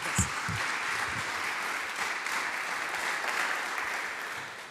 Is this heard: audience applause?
yes